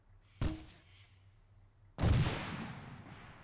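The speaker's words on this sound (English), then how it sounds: "Shooting through those bushes." Two gunshots ring out in the military shooter game Arma 3: a short, sharp crack, then after a pause a louder, heavier shot whose echo trails off slowly.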